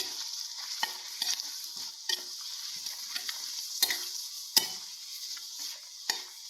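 Curry leaves crackle and sizzle in a hot pan of oil, soft frying hiss with scattered sharp pops and a few stirring scrapes, close and fairly quiet.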